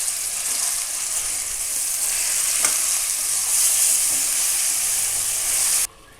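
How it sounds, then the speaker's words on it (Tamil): Marinated chicken pieces fry in oil for a chicken dum biryani, giving a steady, close sizzle with soft stirring scrapes that runs evenly for about six seconds, then cuts out abruptly near the end. "சிக்கன் ஆட் பண்ணதுக்கப்புறமா ஒரு 3 to 4 minutes நம்ம சிக்கனை வந்துட்டு இந்த ஆயிலில் நல்லா ஃப்ரை பண்ணணும்"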